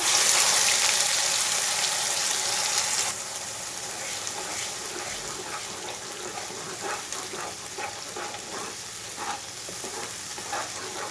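Green chilies, five-spice seeds and ground spice paste fry in hot oil for a Bengali katla fish curry, giving a loud, steady close sizzle that drops slightly after a few seconds, with stirring clatter and crackles over it.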